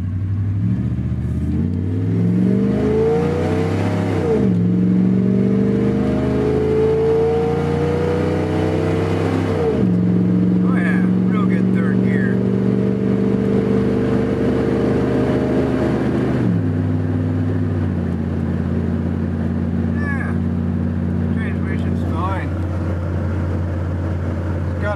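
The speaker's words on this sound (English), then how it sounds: "Transmission test before I take it out." A Chevrolet S10 pickup with a newly installed transmission accelerates steadily from inside the cab, its engine drone climbing in pitch and then dropping at three distinct gear shifts, loud and continuous.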